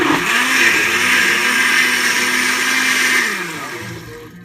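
A blender on its liquefy setting purees parsley and tomatoes, a loud, steady motor whir that holds for about three seconds before winding down. No one speaks.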